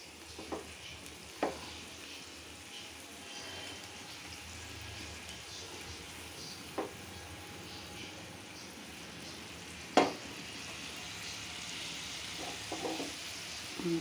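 A pan of vegetable curry sizzles and simmers softly, with a few sharp clinks of a spoon scraping the pan as it is stirred now and then over a steady low hiss.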